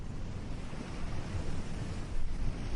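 Ocean waves wash continuously as a dense, rushing roar with slight swells, steady and fairly close, with no voices over them.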